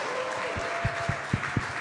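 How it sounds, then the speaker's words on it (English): Audience applause for the Appleton North girls swimming team, a short steady spatter of clapping with a few sharper low thumps, fairly close and with no voice over it. "How about a big round of applause for the Appleton North girls swimming team"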